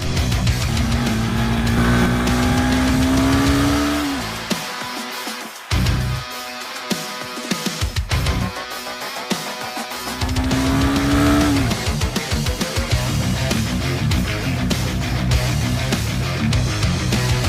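A Honda Hornet 2.0 184cc motorcycle engine revs hard and loud in rising, falling sweeps, with a short break in the middle before the revving returns.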